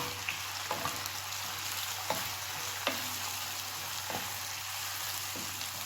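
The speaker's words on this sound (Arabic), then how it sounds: "غنبقى نحرك هكا شويه بشويه حتى تبدا المطيشه ديالي تذوب" Chopped tomato, seeded, partly peeled and cut small, sizzles steadily in a frying pan while a spoon scrapes and taps the pan every second or so, the stirring clicks standing out close over a constant hiss with no talk.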